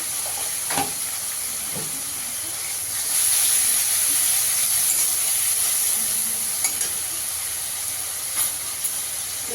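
Grated large tomato tipped into a hot pan for a paneer moong dal curry, setting off a steady, fairly loud hissing sizzle that swells after a few seconds and holds, with faint clinks, no talking.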